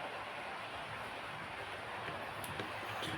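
Model railway L&Y Class 5 2-4-2T tank locomotive pulling a short freight train: a faint, steady low rumble of running wheels and motor with a few small clicks, heard alone.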